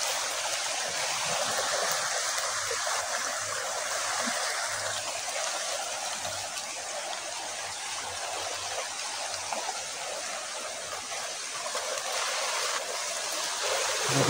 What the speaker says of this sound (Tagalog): lakas pa ng ilog